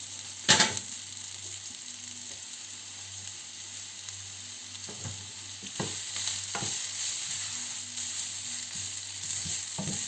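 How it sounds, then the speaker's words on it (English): Noodles sizzle in a wok as they are loosened and left to heat, a soft continuous frying hiss broken by a few sharp stirring clatters, close and without talk. "Add the noodles. Just loosen them out and then just leave them start heating through them again."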